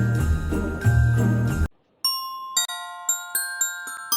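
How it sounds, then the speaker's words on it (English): Sleigh bells at Christmas, a short run of bright, ringing jingles that repeat in a steady rhythm and decay between strikes, following a brief burst of music. "George thought he had heard sleigh bells"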